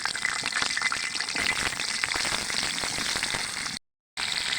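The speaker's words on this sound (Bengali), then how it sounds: "প্রথমে আমরা আলুটা ভেজে নিব। একে একে আলুগুলো দিয়ে দিলাম।" Potato pieces fry in hot oil in a pan, giving a loud, continuous close-up sizzle and crackle that cuts off briefly near the end.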